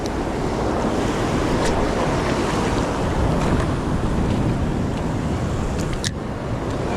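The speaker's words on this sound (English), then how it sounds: "Some waves right there." Ocean surf breaks at night in a dense, continuous roaring wash of waves, loud and close, with wind noise mixed in and no talk.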